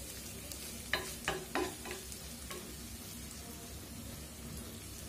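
Fried meat sizzles steadily in a pan as a little water is added, with a few sharp stirring clatters near the start over a constant crackling hiss; no talking.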